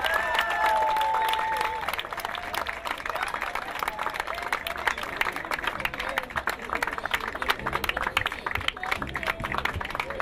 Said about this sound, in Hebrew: כפיים, כפיים, כפיים!